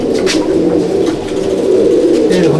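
Andhra and Madrasi pigeons at a loft coo softly and repeatedly, several overlapping rolling calls close by with light background noise.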